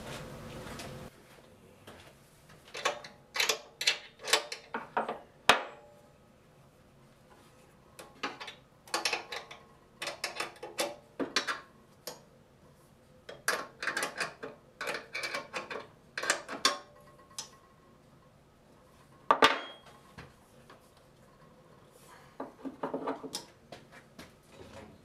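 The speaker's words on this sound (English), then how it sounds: "I'm gonna loosen up the tension bolt." Metal clicks, ratcheting and clunks from loosening the blade tension bolt on a 9-inch Task Force band saw, a run of short close taps and turns in irregular bursts with pauses between them.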